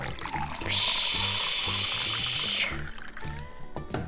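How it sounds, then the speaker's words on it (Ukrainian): Water pours steadily into a toy pot in a children's play kitchen, making a bright rushing stream that lasts about two seconds. Soft clatter and background bumps can be heard around it. "Додаємо сюди водички."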